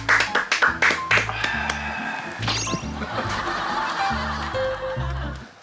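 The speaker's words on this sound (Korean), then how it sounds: "와 우리 박수 치자." A few people clap their hands in a quick burst of sharp claps, mixed with laughter and chuckling at a casual drinking and eating get-together between friends, followed by voices and clinking.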